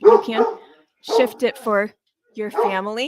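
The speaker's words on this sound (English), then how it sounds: "That's my dog. Hopefully it's not too loud for you." A small dog barks in short yipping bursts in a room, loud and close, three separate volleys with pauses between them. Nobody talks while it barks.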